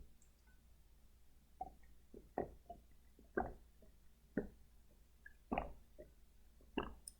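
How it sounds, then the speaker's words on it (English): Water makes soft, wet close-up sounds, a series of quiet plops or gulps about once a second over a faint background hum, with no talking. "This is just water, if you're wondering."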